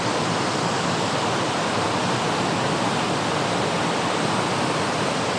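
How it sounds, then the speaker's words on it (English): A stream pours down at Kudengrim waterfall in a dense, unbroken roar of rushing water, loud and close, steady from start to finish. "the stream comes and flows from here and goes down from there"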